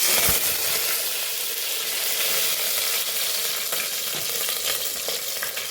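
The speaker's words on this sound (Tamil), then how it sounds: "கடுகு போட்டுக்கலாம். கருவேப்பிலை அப்படின்னு வந்தாச்சு" Mustard seeds and fresh curry leaves sizzle hard in hot oil, a dense steady crackling hiss close up, with faint stirring and no voices.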